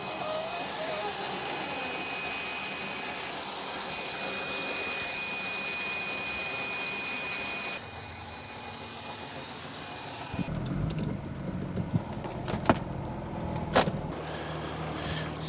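An aluminium lowering car trailer is lowered by remote, a steady electric motor whine with hydraulic hum that shifts pitch midway and then settles with clunks and knocks as it comes down, while a person talks throughout.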